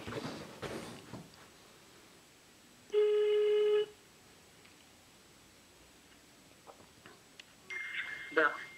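A phone call placed on speakerphone gives one steady electronic ringback tone lasting about a second, with faint rustling around it and another brighter tone near the end.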